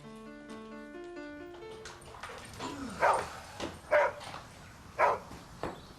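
A dog gives several sharp barks and yips at a steady pace, fairly close, over a soft background with a brief tonal melody at the start.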